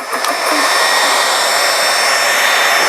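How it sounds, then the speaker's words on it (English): Air loudly rushes from the opened bleed valve of a GX CS2 12V/220V high-pressure air compressor after filling a tank to 200 bar, a steady close hiss with a faint whine that follows a short initial burst. "open your bleed valve, and then you can switch off the compressor"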